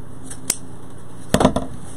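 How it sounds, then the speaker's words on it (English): Scissors snip through ribbon during bow making: one sharp isolated cut, then a quick cluster of crisp snips, close and clear against a quiet background. "now we're going to cut this one off"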